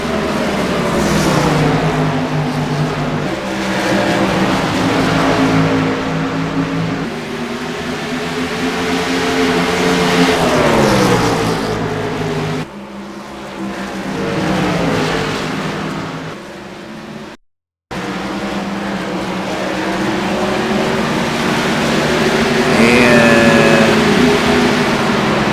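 Race cars in an iCar Cup Series race at Iowa Speedway roar past continuously, engine tones rising and falling as they pass, loud and sustained, with a brief dropout near the end.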